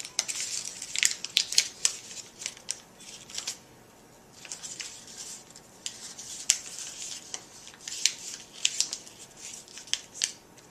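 Paper being folded into an origami crane: quiet, close, intermittent crisp crinkles and sharp creasing snaps with short pauses between them.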